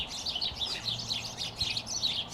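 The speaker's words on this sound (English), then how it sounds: "Full-blown bird fight in our bird cage, right behind the camera." Birds squabbling inside a bird cage give off a busy run of fairly faint high chirps and tweets, repeated in quick bursts behind a low background hum.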